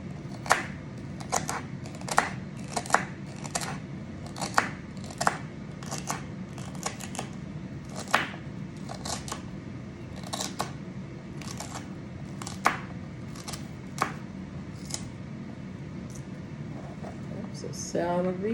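Onions being chopped on a cutting board, a steady run of crisp, close knife taps over a low background hum, with the pace quickening and slowing at points.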